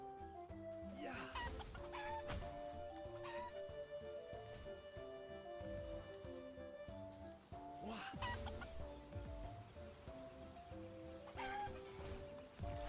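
Chickens cluck in the game Palworld over a busy backdrop of game music and effects, with bursts of noisy activity recurring through the stretch.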